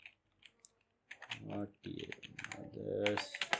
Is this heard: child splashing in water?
no